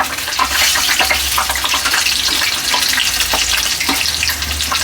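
Chilli bajji in batter deep-frying in hot oil, a loud, steady, dense sizzle and bubbling heard close up with no talking.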